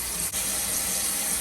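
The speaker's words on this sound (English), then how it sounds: "Turn on the hot water." Hot water runs from a kitchen tap in a steady, broadband hiss, fairly faint and unbroken apart from a brief dip early on.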